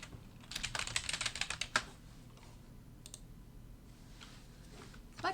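Fingers type a password on a computer keyboard in a rapid burst of close clicking keystrokes, then a pause and a few scattered taps.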